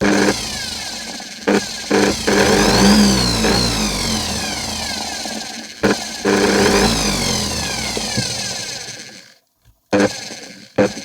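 An eccentric orbital sander runs loud and close with a buzzing motor whine that rises and falls in pitch, briefly dips a few times, then cuts out near the end before starting again.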